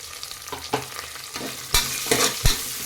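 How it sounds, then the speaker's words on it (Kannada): Green chillies and fenugreek seeds frying in hot fat for ghee rice, a continuous sizzle punctuated by several sharp scrapes and knocks of a spoon stirring in the pan, close and alone. "ಮೆಣಸಿನ್ಕಾಯಿ ಸ್ವಲ್ಪ ಫ್ರೈ ಆಗೋ ತನಕ ಫ್ರೈ ಮಾಡ್ಕೊಳ್ಳಿ"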